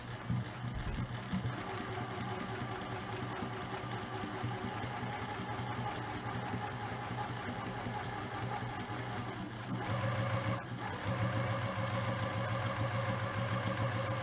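A sewing machine runs steadily, stitching a half-inch seam on fabric for a ring bag with back stitching at the ends; the close motor whir holds an even pitch and shifts slightly partway through.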